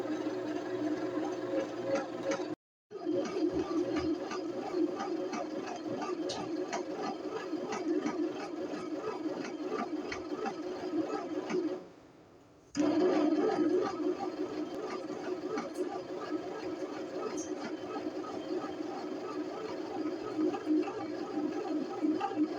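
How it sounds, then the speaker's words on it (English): A home bread machine kneads dough with a steady mechanical whir and rhythmic churning hum, running continuously with two brief pauses where the motor cuts out before resuming, fairly quiet and close. "you can be doing other stuff while the machine is making the bread"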